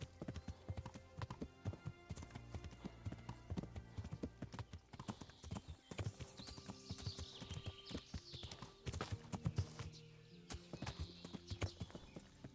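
Horse hooves clip-clop steadily while riding in the medieval game Kingdom Come: Deliverance, a busy rhythmic clatter of footfalls with occasional snorting over an ambient game backdrop throughout.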